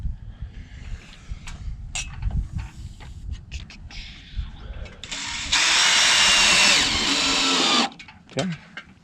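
Power drill driving screws into corrugated greenhouse roofing with plastic strips, a steady whirring burst of about two seconds after scattered handling clicks and knocks, close up.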